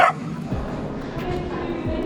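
A puppy barks a few short yips amid the outdoor bustle of a Copenhagen street, where soldiers march and a crowd murmurs in the background.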